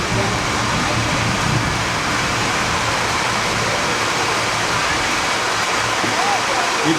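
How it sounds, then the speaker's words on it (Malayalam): Steady rain pours down on an outdoor stage during a lamp-lighting and speech event in Kerala, a dense, even hiss with a low rumble filling the whole stretch, close and constant with no breaks. "അത് ഈ ദീപം തെളിച്ച് കഴിഞ്ഞ ഉടനെ തന്നെ ഈ മഴ വന്നത്"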